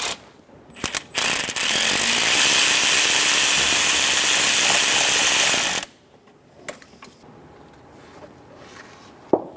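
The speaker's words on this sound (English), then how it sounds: "Remove the 12mm bolt on the bottom of the tensioner." A ratchet loosens a 12mm tensioner bolt during a Honda Accord timing belt job, with a few short clicks followed by a long, fast, continuous ratcheting run up close, then quieter metallic taps and handling noises.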